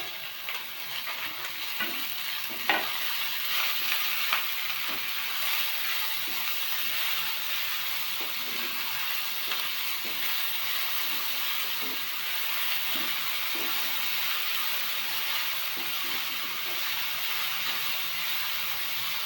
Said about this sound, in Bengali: এখন আমরা পরপর কুচনো সবজিগুলো যেমন বিনস, ক্যাপসিকাম, আলু, সমস্ত সবজি এড করে দেবো।